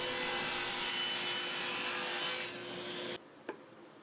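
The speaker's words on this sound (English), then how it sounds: "cutting a strip of 1/2 inch plywood for the base, and a strip of 3/4 inch for the face of the fence" A power saw rips a strip of half-inch or three-quarter-inch plywood in a steady loud whine that runs about three seconds, then cuts off, leaving a brief clunk afterward.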